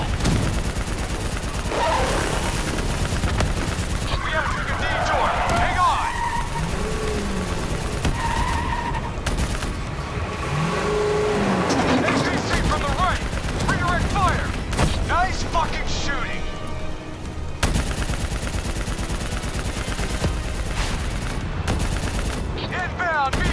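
Sustained automatic gunfire in Call of Duty: Black Ops 3 rattles at a VTOL aircraft in dense bursts, loud and continuous, with shouted voices and mechanical clatter mixed in.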